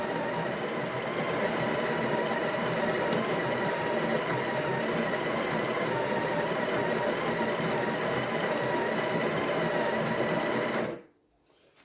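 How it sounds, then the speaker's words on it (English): A Breville Barista Express Impress espresso machine grinds coffee beans into its portafilter, a loud, steady mechanical whir that runs unbroken for about eleven seconds before cutting off abruptly into quiet. "So our beans are in, portafilter's in, grind him up."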